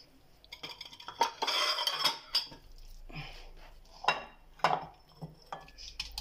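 Fish being handled and turned in a dish with spices for a Moroccan tagine, giving irregular clinks and clatters of utensils against the dish with soft wet shuffling, close by and without speech.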